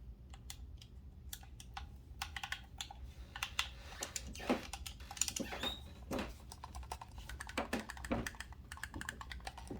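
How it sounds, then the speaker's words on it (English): Rapid, irregular plastic clicking and tapping, close up, as Xbox Series X controller buttons are pressed repeatedly over a low background hum. "Click tile on the buttons sound really good."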